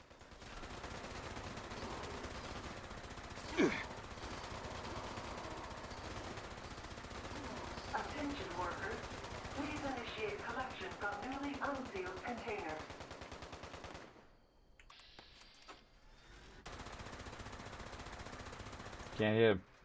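Rapid bursts of gunfire in the Fallout 76 video game, loud and sustained for long stretches with a few sharper shots, under voices of players talking.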